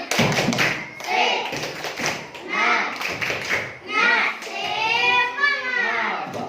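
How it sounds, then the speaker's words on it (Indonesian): A primary school class chants the rhythmic 'tepuk semangat' cheer while clapping together, led by a male teacher; a crowd of children's voices rings out close and loud over sharp, patterned hand claps in repeated bursts. "Tepuk semangat."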